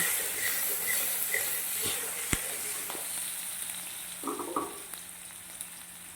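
Sliced onions and slit green chilies fry in oil for a light tangra fish curry, a soft continuous sizzle with a sharp clack and a few stirring scrapes, fairly quiet and without speech.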